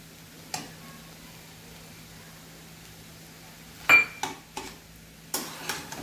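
Jaggery is stirred into cooked dal in a pan for puran poli, a few scattered scraping and clinking stirs of a spoon against the pan over a quiet low hum, close by.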